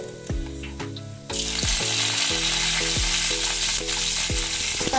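Mustard seeds, fenugreek and curry leaves drop into hot oil for a raw mango rasam, setting off a sudden loud, crackling sizzle that keeps going over repeating tonal background music.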